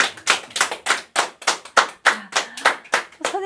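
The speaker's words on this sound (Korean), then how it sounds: "선생님들 위해서 큰 박수 한 번만 부탁드립니다." Close, loud rhythmic clapping from a lecture audience applauding their teachers, about a dozen crisp, evenly spaced claps in quick succession with almost no talk.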